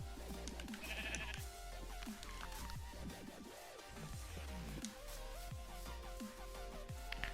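A sheep bleats several times amid a busy, dense game soundscape with layered background music and effects, the calls short and mid-level rather than standing out clearly.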